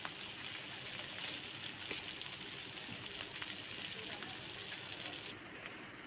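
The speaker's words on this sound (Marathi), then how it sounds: "तेल गरम झाले फ्राय मारून घेते मी" Food frying in hot oil on a flat griddle, a steady, soft, continuous sizzling hiss that stays even throughout, heard alone.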